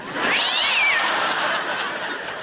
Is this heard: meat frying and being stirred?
no